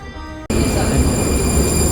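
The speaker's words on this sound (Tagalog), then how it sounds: "Dito na yung train" Train pulling into a station platform in Czechia, a sudden loud rush of rolling wheels and rumbling carriages with a high whine, close by and continuous after a brief quiet moment.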